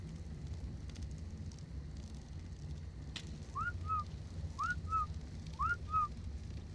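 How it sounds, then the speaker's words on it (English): Someone whistles a short two-note phrase three times in a row, moderately clear, over a steady background hiss and rumble during a live ARK server stream. "Somebody's whistling."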